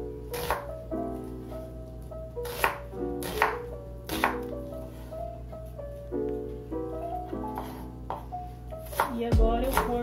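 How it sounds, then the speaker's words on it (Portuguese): A knife cuts an onion into strips on a board, with crisp, close strikes every second or two over a faint steady hum and ringing tone, then a heavier thud near the end. "A cebola, vamos cortar assim"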